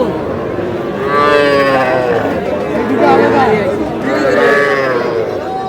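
Young bulls and calves call at a livestock market in Madaripur, with three drawn-out moos rising over steady crowd chatter and people talking nearby.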